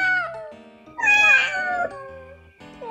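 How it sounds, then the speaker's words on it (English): A cat meows several times in drawn-out, wavering calls, close and loud with no talking. "Here we have a cat that goes"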